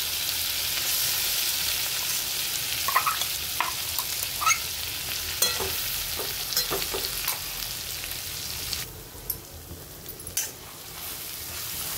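Ground masala paste frying in hot oil in a pan for a stuffed bitter gourd dish, a close, steady hissing sizzle broken by scattered spatula scrapes and clicks of stirring, easing slightly near the end, with no talking.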